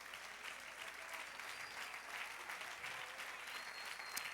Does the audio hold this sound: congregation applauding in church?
yes